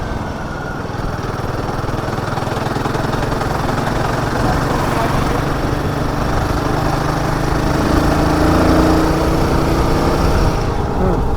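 A Royal Enfield Himalayan 450 motorcycle idles steadily with a rough, chugging exhaust putter, loud and close, holding an even tone throughout.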